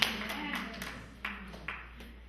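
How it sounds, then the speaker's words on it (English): A church congregation claps briefly, scattered hand claps over a low room hum, with a few distinct sharper claps standing out, faint and short. "let's give them a clap for it"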